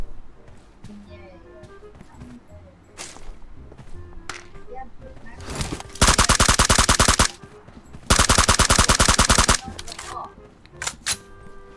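Rapid automatic gunfire from a video game rips out in two long sustained bursts, loud and close, with scattered single shots and excited talking around it.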